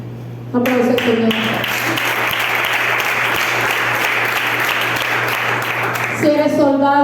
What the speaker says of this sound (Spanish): Aplausos al Señor.